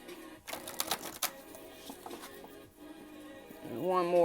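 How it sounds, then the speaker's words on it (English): Oversized tarot cards being shuffled by hand, a few quick papery riffling bursts near the start, then softer handling with a voice entering at the end. "These cards are kind of big. I'm gonna do 2 more shuffles."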